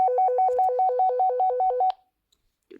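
A walkie-talkie call tone sounds as a rapid, even series of about a dozen short two-note beeps, crisp and close, ending suddenly and leaving near silence.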